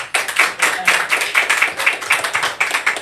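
An audience clapping hands in a rhythmic, steady pattern of close, soft claps, repeating evenly without any talk.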